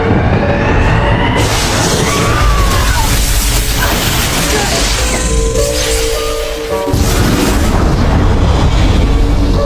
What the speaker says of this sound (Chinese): 人工的穹顶爆炸了